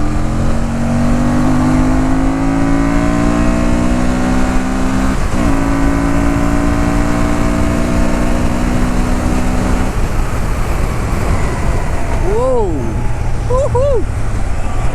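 A Honda Transalp 750 twin-cylinder motorcycle revving toward its red line at speed: loud, steady engine drone with rising harmonic tones, a brief gear change mid-way, then swooping pitch shifts under heavy wind noise.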